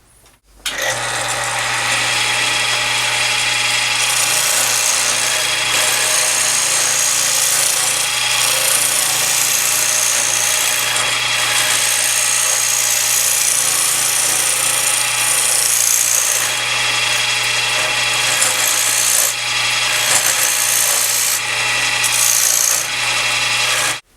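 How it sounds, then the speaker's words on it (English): A small gouge cuts a green wooden bowl spinning on an electric lathe, giving a loud, continuous scraping and shaving roar over a steady motor hum, with brief dips where the tool lifts off. "I found that with the small gouge it works nice, turning on an electric lathe."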